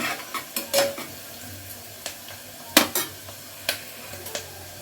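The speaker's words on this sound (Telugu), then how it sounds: "ఒకసారి కలుపుకోవాలి" A spoon stirs bottle gourd curry with turmeric and green chilies in a pan, a string of sharp, irregular scraping clicks and taps against the metal over a soft background, with no voices.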